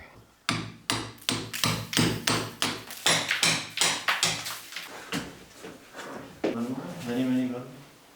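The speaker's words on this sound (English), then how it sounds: "the door doesn't quite fit, so we do have to hammer and chisel a little bit more" Sharp, regular hammer blows strike a chisel while fitting a door, a steady series of about a dozen hits, close by, then slow down as a voice speaks.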